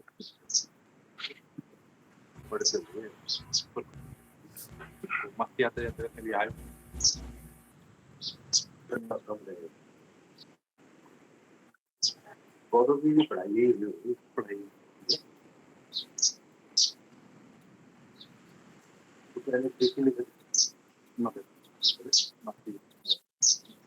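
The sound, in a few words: birds chirping on a farm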